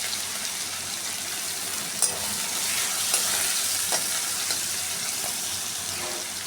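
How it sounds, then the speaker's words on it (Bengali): Chopped onion frying in oil in a pan, an even hiss of sizzling with occasional clinks and scrapes as it is stirred, close and unaccompanied by speech. "আমি একটা ছোটো সাইজের কোচানো পেঁয়াজকে কুচিয়ে নিয়েছি, দিয়ে ওটাকে ভালো করে ভেজে নেব।"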